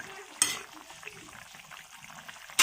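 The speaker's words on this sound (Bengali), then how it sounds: "এই সময় আমার কাকিমা একটু নাড়াচাড়া করে দেখুন" Thick curry gravy is stirred in a pan, a low bubbling frying sound marked by two louder scrapes of the spoon, one near the start and one at the end.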